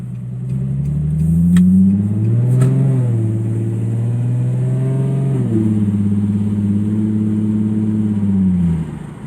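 A Nissan 350Z fitted with a Z1 Motorsports M-Spec Y-pipe-back dual exhaust accelerates hard through the low gears, its loud droning exhaust note climbing in pitch, dipping at a shift, then rising again, recorded from inside with the window open.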